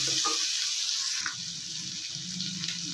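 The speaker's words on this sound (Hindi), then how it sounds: "यहाँ पर मैं थोड़ा सा पानी लगाऊंगी ताकि हमारे जो मसाले हैं अच्छे से फ्राई हो जाएं" Ground spices frying in a pan for a bitter gourd curry after a splash of water is added, giving a steady close hiss and sizzle throughout with soft low stirring scrapes.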